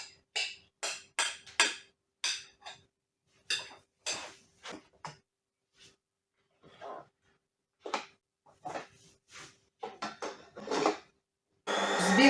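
An electric mixer whisks dough for Easter kulich in short bursts, starting and stopping repeatedly with brief pauses between runs, close and fairly quiet, with a longer final burst at the end.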